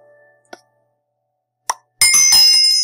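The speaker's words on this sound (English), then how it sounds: "We heard our little silver tinkle bells, which means that we completed exercise two." A couple of short, bright clinks separated by silence, then a burst of shimmering, bell-like completion chimes from a coding game, ringing out at the end, close and clear.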